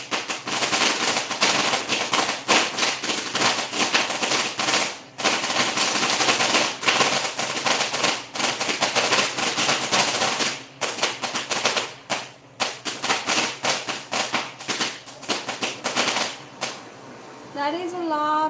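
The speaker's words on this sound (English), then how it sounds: "That is a lot of firecrackers here." Dense bursts of firecrackers exploding during Diwali, rapid crackling strings of sharp bangs in irregular rhythm, loud and sustained with brief gaps, a voice briefly audible near the end.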